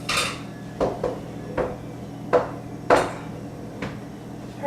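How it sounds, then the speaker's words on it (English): Dishes and pots are shifted aside in a home kitchen, giving a series of separate clinks, clatters and knocks of crockery and cookware, close and fairly loud, with short gaps between them. "Let's move my roommate's dishes out of the way."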